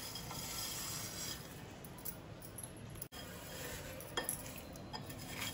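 Roasted Maggi noodles are stirred into a bhel mixture, giving a soft, steady scraping and rustling with a few light clinks near the end. No one speaks.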